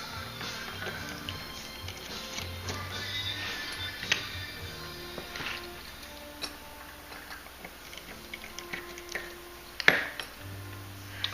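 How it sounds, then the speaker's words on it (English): Two small screws come out of the metal hardware on a leather clutch bag, heard as faint, close, irregular ticks and light metallic clinks over a quiet room. "Just take these 2 little screws out."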